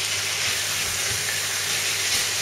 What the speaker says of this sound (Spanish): pondremos el pollo para que se vaya friendo.